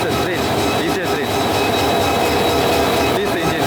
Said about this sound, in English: This is the train, diesel train.